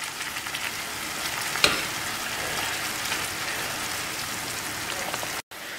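Schezwan sauce sizzles and fries steadily in a pan while being stirred, a continuous crackling hiss with one brief scrape of the spoon and a short dropout near the end.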